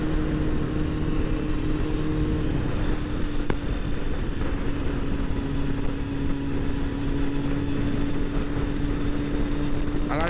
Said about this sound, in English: This bike actually sounded really good.